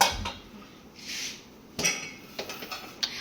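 Pathiri dough pressed in a metal pathiri press, giving a few sharp metallic clacks and knocks at irregular intervals against quiet background, with no voices.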